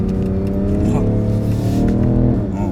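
A BMW X5 M50d (G05) engine drones steadily with a deep exhaust note, sport exhaust sound system off, pitch climbing slightly as it accelerates, loud and close.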